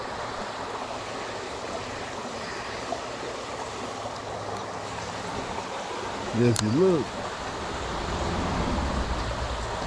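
High water after heavy rain, flowing out of a culvert: a steady, broad rushing wash that fills the whole clip, with someone speaking briefly over it partway through.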